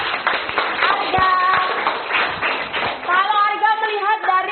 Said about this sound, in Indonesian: Tepuk tangan untuk Arga.